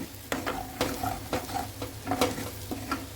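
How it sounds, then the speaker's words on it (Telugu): Raw prawns fry in a pan with a steady sizzle, broken by repeated scraping stirs that come every half second or so, close and fairly clear, with no talking. "దీన్ని ఒక్కొక్క 5 మినిట్స్ అలా మగ్గించిన తర్వాత ఇంకా ఇది కంప్లీట్గా ఫ్రై అనేది అయిపోతుంది."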